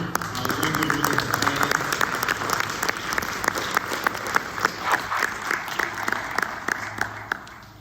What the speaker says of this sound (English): I want to give a round of applause again.